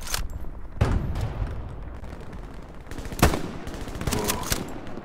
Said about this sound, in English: He just got into a little gunfire.